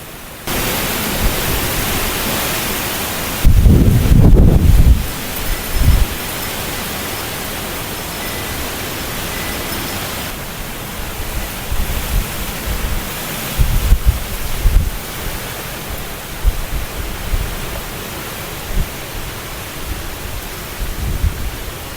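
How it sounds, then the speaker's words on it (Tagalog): Steady broadband roar of typhoon wind lashing trees and leaves at night, with louder gusts and rustling surges, no voices. "dinig ko na talaga yung hampalos, yung hampas ng hangin sa mga puno, sa mga dahon"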